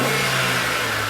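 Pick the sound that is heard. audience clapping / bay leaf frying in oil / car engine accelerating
car engine accelerating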